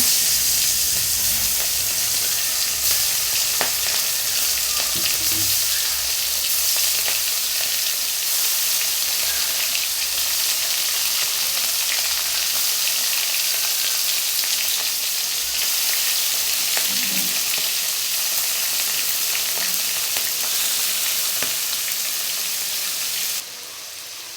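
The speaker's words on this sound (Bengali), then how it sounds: "এখন চিংড়ি মাছগুলো ভেজে নেব" Prawns fry in hot oil in a pan, giving a steady, close sizzle with soft crackles and occasional stirring, with no voices.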